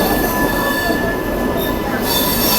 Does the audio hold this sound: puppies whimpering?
no